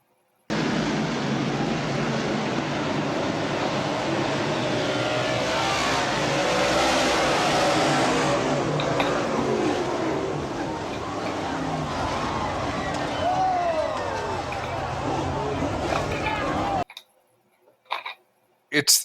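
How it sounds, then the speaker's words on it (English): Loud, dense roar of racing cars with crunching impact noises and a crowd screaming throughout, then cutting off abruptly near the end. "It's the people screaming, and you can hear the metal crunching as the cars hit."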